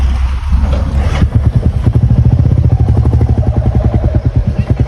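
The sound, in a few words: motorcycle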